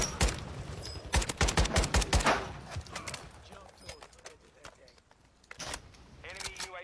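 Sniper fire in a shooter video game cracks out in clustered bursts, loud and sharp at first, then thinning to scattered single shots. Players talk excitedly over the gunfire throughout.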